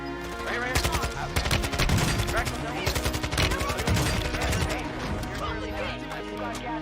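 Rapid automatic gunfire from Warzone 2 gameplay crackles in dense bursts throughout, loud and continuous, with a voice talking over the shooting.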